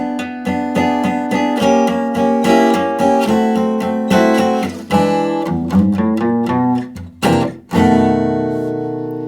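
A bluesy acoustic guitar intro in E, rhythmic strummed chords followed by a few ringing single notes and a final sustained chord, close and clear.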